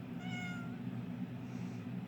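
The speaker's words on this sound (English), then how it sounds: "You're just not like other cats, are you?" A cat meows a couple of times, close and fairly clear, the second call softer than the first, over a steady low background hum.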